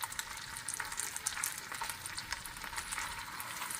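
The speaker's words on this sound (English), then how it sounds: "And I want the onion to fry a little bit." Chopped onion frying in cooking oil in a pan on turned-up heat, a steady bright sizzle and crackle with dense popping, close and continuous with no voices.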